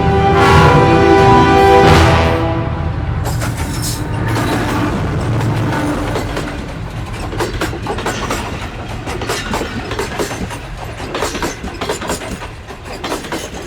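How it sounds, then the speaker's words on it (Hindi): A train approaches and rushes past on the tracks, a loud horn blast at the start giving way to rumbling wheels and rhythmic clatter that gradually recedes. "अबे और ट्रेन आ रही है, मर जाएगा।"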